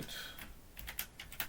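Computer keyboard keys tapped while editor commands are entered during a Linux software install, giving a short quiet run of separate clicks and one or two firmer presses near the end, with no talking.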